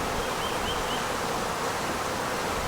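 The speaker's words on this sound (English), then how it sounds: "There's not that many bees in this box" Honey bees in a wooden swarm trap box hum with a continuous, dense buzzing drone at close range, steady throughout with no voices.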